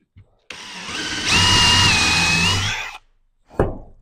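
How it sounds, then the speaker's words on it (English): A power drill spins up close and bores a 3/8 inch hole into wood steadily for about two seconds with a rising whine, then stops; a short knock follows. "This is where we're going to drill our 3/8 inch hole."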